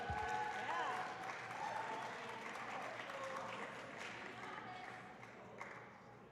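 Audience applause and scattered cheers at a provincial powerlifting meet, a steady wash of clapping that holds through the clip and slowly fades, with voices mixed in underneath.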